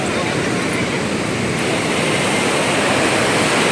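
Fast river water rushes through the Kosi Barrage in Ramnagar, a loud, steady, close roar of churning flow that holds unbroken throughout.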